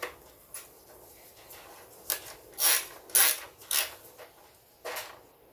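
A sensor is pressed into place on a BMW N57 diesel engine in an F10/F11, giving a few short creaks and plastic clicks at irregular intervals, close by and fairly faint, with no talking.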